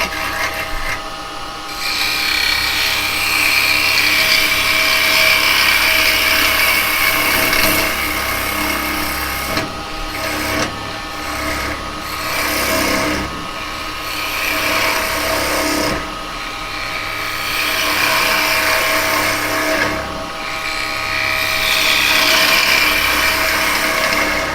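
Wood lathe turning yew with a half-inch gouge, a steady loud whirring hiss of the cut that surges and eases as the tool moves across a recess, continuous for the whole stretch with no talk.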